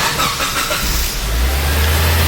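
A Honda Element with a swapped K24 engine cranks on a second starting attempt, a loud continuous churn that settles into a deep low drone as the engine begins to catch.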